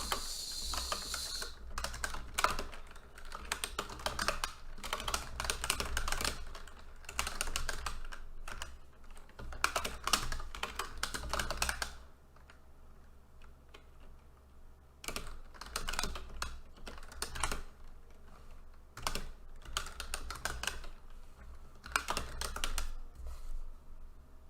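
Steady clatter of keys on a computer keyboard, close and clear, in quick bursts with a pause midway before the typing resumes.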